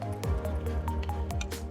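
Weathering paste for mud and dust effects is scooped onto a glass insert, giving close, wet squishing and dripping sounds that repeat in soft, irregular bursts.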